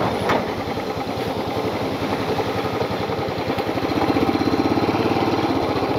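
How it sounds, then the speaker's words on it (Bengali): A motorcycle engine running steadily while riding on a mountain road in Sikkim, a close, continuous throbbing drone with a slight rise in pulse toward the end. "এদিকে দেখবো না রাস্তা, ঠিক মতন বাইক চালাবো।"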